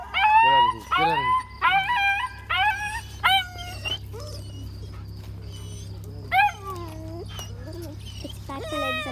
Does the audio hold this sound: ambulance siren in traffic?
no